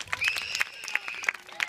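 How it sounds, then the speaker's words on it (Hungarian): Children in the audience of a Hungarian children's show clapping in scattered, uneven bursts, with some excited high-pitched voices mixed in among the claps. "Egy nagy tapsot kérek neki!"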